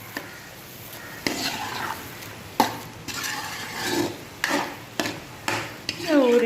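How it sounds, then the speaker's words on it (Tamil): Prawn pickle masala of ground coriander, fenugreek powder and mustard stirred in a pan, with repeated scraping strokes of a spoon against the metal over a low sizzle, close and fairly loud with short gaps between strokes. "நல்லா கிளறிக்கலாம்."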